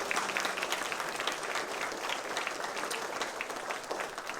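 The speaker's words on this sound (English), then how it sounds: "Please join me in a round of applause." Steady applause from an audience at a political candidates' forum in Polk County, Texas, a thick sustained patter of many hands clapping throughout, moderately distant.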